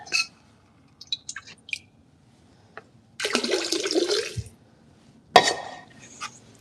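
Water is poured into a glaze mix in a pottery studio. A sloshing pour lasts about a second amid small scattered clinks and taps, followed by a sharp clatter and quiet handling noises.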